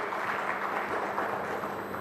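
An audience applauds author Sagar Kaushik at the launch of his book "Uncertain": a steady, dense wash of many hands clapping together, sustained evenly without pauses.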